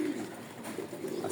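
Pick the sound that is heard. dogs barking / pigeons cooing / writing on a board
pigeons cooing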